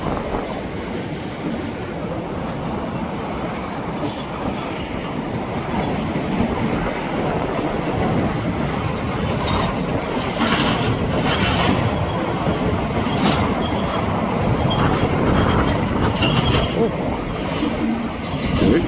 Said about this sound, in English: it seems like they're pulling most of the whole train out from here